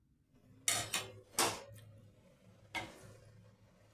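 A steel spatula knocks and scrapes against a pan while halving potatoes for a pea and potato curry, four sharp metallic clinks in quick succession, close and clear with quiet gaps between.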